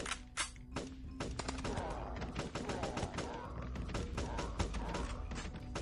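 Rapid gunfire from shooters in the Dead Zed flash game rattles in dense bursts of sharp cracks, continuous and fairly quiet throughout.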